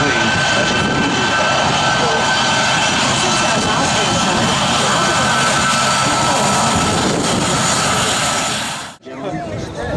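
Loud, steady roar of C-17 military transport aircraft engines, a dense sustained rumble with a continuous high whine across most of the span, cutting off abruptly near the end.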